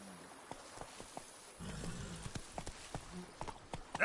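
Roach, Geralt's horse in The Witcher 3, clip-clops along with sharp, evenly spaced hoofbeats over a quiet background, joined midway by a rougher rumbling patch and ending on a louder thump.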